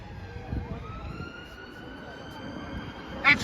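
A London Ambulance Service ambulance siren wails as it passes a protest in Parliament Square, a steady rising and falling tone heard at moderate distance over crowd and traffic noise.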